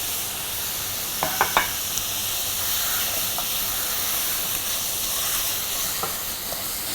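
Seasoned beef and green chilies sizzling in a pan for a Sri Lankan beef curry, a soft continuous hiss with a few brief clinks early on, fairly quiet and close.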